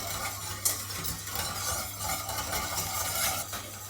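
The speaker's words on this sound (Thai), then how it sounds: "เสร็จแล้วเราก็คนส่วนผสมทุกอย่างให้เข้ากันนะคะ แล้วก็ เคี่ยวต่อไปเรื่อยๆ จนแป้งสุกค่ะทุกคน" A thickening chocolate-cherry cake filling of flour and sugar simmering in a pot while being stirred, soft bubbling and scraping with a faint click of utensil against metal, no voices.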